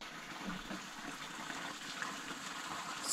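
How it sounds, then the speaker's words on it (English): Fresh water runs from a roadside tap into containers, a steady gushing fill that stays fairly quiet and continuous, with no voices. "So I'm gonna fill up on water, fresh water."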